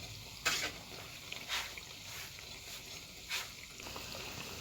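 Masala vada frying in a pan after being flipped: a soft continuous sizzle with a few faint scraping touches, fairly quiet and steady throughout.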